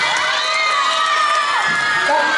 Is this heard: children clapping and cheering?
yes